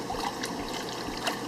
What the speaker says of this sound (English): bring the water back into the pan